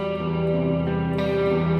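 A reverb effect from Native Instruments Komplete processes sustained synth tones, giving a thick, washy, distorted drone with a smeared tail and a slight shift partway through, steady and fairly loud without any talking.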